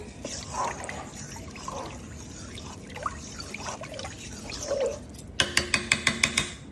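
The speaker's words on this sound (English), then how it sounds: "And we will give it a stir." Spoon stirring rice and wet dog food in a cooking pot, giving soft wet scraping and squelching up close, followed by a quick burst of sharp, regular clinking taps near the end.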